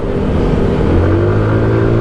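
A 2005 Yamaha Mio Sporty motor scooter engine revs up close, its pitch climbing steadily in a loud, continuous drone.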